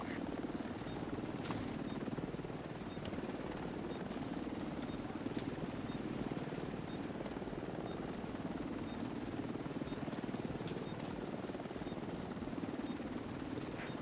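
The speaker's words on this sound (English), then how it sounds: "Chopper will leave in 30 seconds." Helicopter hovering during an extraction in the video game The Division 2, a steady rotor drone that runs for the full stretch under the game's ambient noise.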